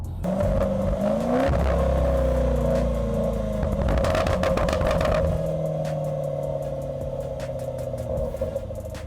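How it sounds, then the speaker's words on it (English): A Range Rover SVR's supercharged 5-litre V8, fitted with a centre-box cross pipe, revs repeatedly, rising and falling with a throaty roar and crackling pops on the overrun, close and loud with no talk. "We remove those and we put a cross pipe in the centre box, which just brings back the noise of the V8 and the pops and bangs"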